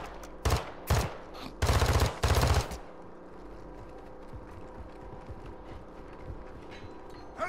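Gunfire in the video game Call of Duty DMZ: several sharp, loud bursts of automatic fire in quick succession, then quiet game ambience with faint distant noises.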